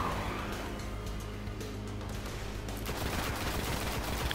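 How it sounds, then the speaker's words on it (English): Machine gun fire in the video game Destiny comes as a steady rattling barrage under a dense wash of game noise, fairly quiet overall and continuous. "Let's switch to a machine gun again. Before we run out of ammo."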